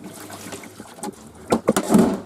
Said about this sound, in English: pour some more boiling water through it